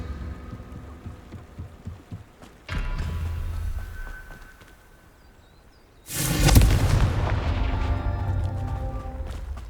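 Confringo fire spell explosions in Hogwarts Legacy: a short blast near the start, then a heavier booming detonation midway that rumbles and decays over several seconds.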